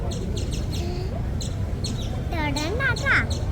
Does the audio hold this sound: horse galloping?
no